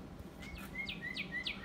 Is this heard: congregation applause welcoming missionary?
no